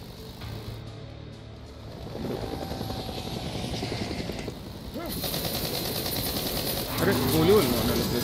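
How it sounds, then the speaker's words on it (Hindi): In the video game Days Gone, a helicopter's rotor thumps steadily in the background while bursts of gunfire break out, and the sound grows louder and busier toward the end. "हेलीकॉप्टर के पीछे दौड़ रहा भाई।"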